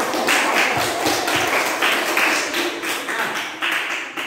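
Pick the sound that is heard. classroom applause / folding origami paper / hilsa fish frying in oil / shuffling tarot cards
classroom applause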